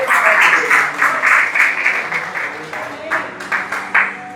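A church congregation applauds together during an evening service, a dense, steady wash of clapping that swells and dips in waves, with a few voices calling out beneath it.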